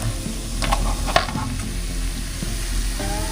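Fish fries in hot cooking oil, a steady close sizzle with a few clinks of a utensil against the pan and no one speaking.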